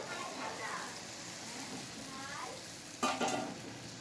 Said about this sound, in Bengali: এবারে এতে বাকি জলটা দিয়ে দিচ্ছি